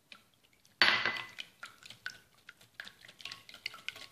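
Three eggs whisked by hand in a bowl: a loud first knock of the whisk, then a quick, steady run of light tapping and clicking strokes close by, with no voices.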